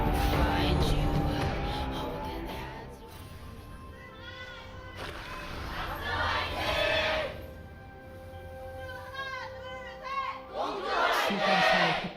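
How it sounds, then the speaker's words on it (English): A large esports arena crowd at a League of Legends match in Korea cheers and shouts loudly and steadily, a dense roar with swelling chants and whoops, the crowd split between two teams. "Good amount of cheers for both sides."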